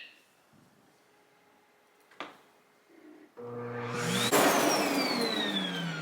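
A Samsung Jet Bot robot vacuum's clean station empties the dust bin, starting after a few faint clicks and knocks with a sudden loud whirring suction that ramps up and holds strong and close.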